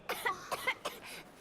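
A character coughs in a Final Fantasy XVI cutscene: a quick run of about five short, faint, dry coughs in under a second and a half, with nothing else heard.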